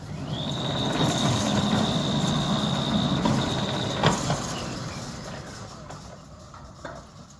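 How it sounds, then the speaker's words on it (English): A sliding gate driven by a Centurion D6 motor rolls along a steel gate rail with a harsh, steady grinding rumble and a high whine, then slows and stops with a clunk, close by. "steel gate rail is a little bit more harsh on the ears or louder compared to the RAS rack"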